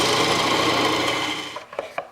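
A wood lathe turning a tenon on a walnut bowl, a steady scraping, rasping cut that runs continuously and then breaks into a few short scrapes as the tool lifts off.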